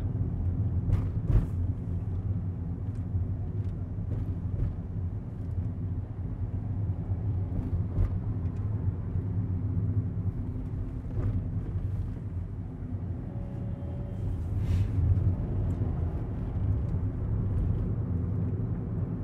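A Perodua Myvi with a 3-cylinder engine drives on city roads, a steady low engine drone and road rumble heard from inside the cabin, with a few faint knocks and clicks.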